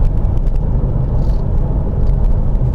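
A 2013 Scion tC engine drones loudly and steadily through a downshift, heard from inside the car as a continuous low rumble with a faint whir.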